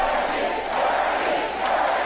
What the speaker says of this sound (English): So the crowd are going absolutely wild for Bernie there.